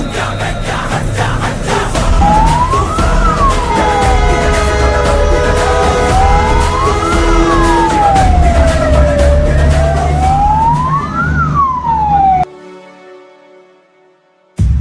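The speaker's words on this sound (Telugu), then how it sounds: "సైరన్ మోగించుకుంటూ వెళ్లడంతో ట్రాఫిక్ ఎక్కువగా ఉన్నా కూడా అంబులెన్స్ ఆపాల్సిన అవసరం లేకపోయింది" An ambulance travelling from Mancherial to Hyderabad wails loudly as it drives through heavy traffic. The siren rises and falls in slow repeating sweeps over road rumble, then cuts off abruptly near the end.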